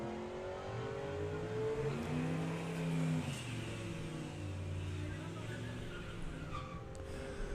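Ford Focus drag racing down the strip at a drag racing meet, engine revving up through gears with rising and falling harmonic tones, moderately distant, with crowd and commentary voices underneath.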